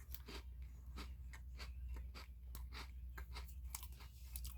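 Someone eats a rough, bumpy-textured Grace cookie, producing a run of close, crisp crunches and chewing bites in a steady rhythm, with no talking.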